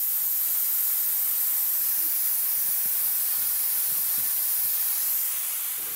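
Spray-on fabric hissing steadily from a spray nozzle onto a person's body, a continuous close, loud aerosol-like hiss lasting about six seconds with no talk.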